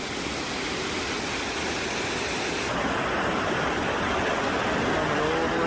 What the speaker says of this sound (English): There's so many waterfalls.